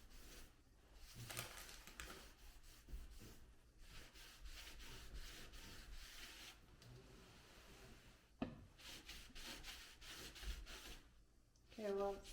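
Stain being rubbed into wood by hand: steady scratchy rubbing strokes in repeated passes, faint and close, with a clatter near the end and no clear talk.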